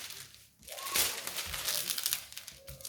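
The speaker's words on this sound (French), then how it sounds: "Il fait moins de bruit que certains papiers transparents." Close-up crinkling and rustling of a thick protective paper sheet over a diamond painting canvas, with crisp bursts of crackle rising and fading over a few seconds.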